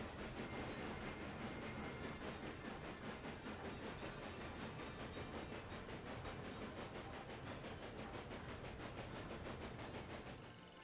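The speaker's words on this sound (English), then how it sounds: "High priority train coming through, please, game." A train in Railway Empire 2 rolls through a Sicily scenario, giving a steady, dense rumble and clatter with hiss throughout, fairly quiet and continuous, with no voices over it.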